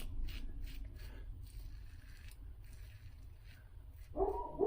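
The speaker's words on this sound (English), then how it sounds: "Oh, dogs are barking." German Shepherd dogs barking indoors nearby, a few muffled, fairly faint barks and yips spread over a few seconds, with a louder sound at the end.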